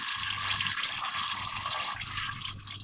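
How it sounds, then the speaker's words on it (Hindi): Water is poured into fried fish curry masala in a pan, a continuous splashing, trickling stream lasting a few seconds, close and fairly clear with no talking. "अब इसमें थोड़ा सा पानी डाल रही हूँ,"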